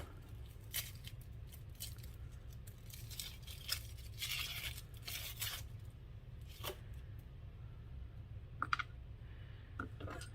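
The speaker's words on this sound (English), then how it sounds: "you're going to want to dice up an onion" A knife dices an onion on a cutting board, giving a steady run of quick, crisp chopping taps and scraping clicks at close range, with no one speaking.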